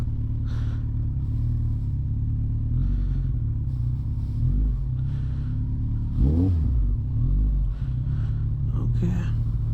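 A motorcycle engine idles and rumbles at low speed while the bike is maneuvered into a parking spot, with a brief rev around the middle, at a busy gathering spot full of other bikers.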